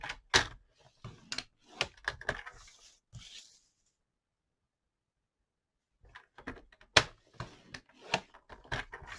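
Paper being scored on a Stampin' Up cutting board makes a quick series of dry clicks and scraping strokes, then a pause of silence, then more taps and scrapes, close and crisp.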